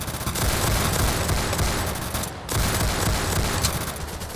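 Sniper rifle fire in the Roblox game Zombie Uprising, a loud dense barrage of gunfire that runs almost continuously with a brief gap midway, no talking.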